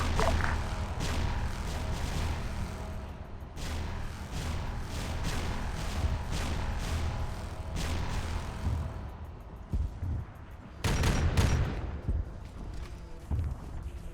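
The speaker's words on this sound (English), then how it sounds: "I would like frag missiles on that position, please." Frag missile barrage in ARMA 3 pounding a position, a sustained rumbling roar of blasts with a heavy, close cluster of impacts near the end.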